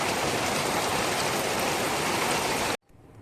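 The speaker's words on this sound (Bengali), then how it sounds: "খুব বৃষ্টি হচ্ছে।" Heavy rain pours steadily in a rural yard beside a pond, a dense, loud, even hiss that ends abruptly near the close, leaving faint quiet.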